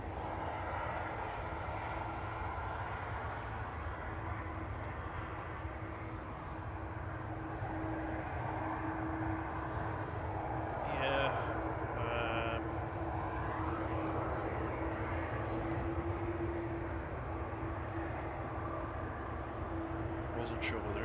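A Ryanair airliner taxis back to stand at Manchester Airport, its engines holding a steady low drone and a faint whine, heard at a distance beneath occasional talk nearby.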